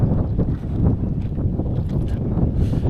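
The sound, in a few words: strong wind blowing on the microphone outdoors in Moldova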